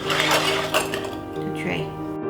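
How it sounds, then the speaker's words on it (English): A spoon scoops vanilla cupcake batter into a baking tray, giving light clinks and scrapes of metal against the pan, close by, with a voice faintly underneath. "So we're just going to transfer about 2 scoops each to"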